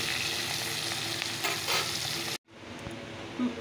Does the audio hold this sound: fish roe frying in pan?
yes